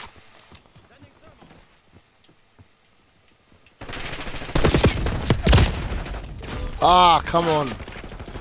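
Three-round burst gunfire in Call of Duty: Black Ops 6, loud sharp shots cutting in after a quiet stretch of muffled game ambience, with other weapon fire and effects layered on top and a brief spoken reaction.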